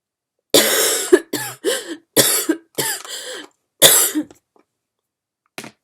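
A run of harsh, close coughs in quick bursts, several in a row with short gaps, then a pause and one final faint cough.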